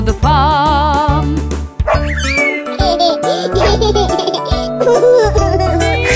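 Barks ring out in a bouncy rhythm over a cheerful children's song, with voices singing along and a repeated woof-like pattern throughout.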